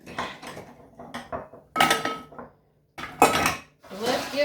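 Metal baking pans and a cookie sheet clatter and clank in a home kitchen, with several sharp bursts of rattling metal scattered between quieter shuffling.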